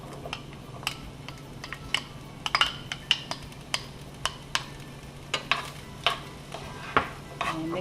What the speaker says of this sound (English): we're going to saute our ham.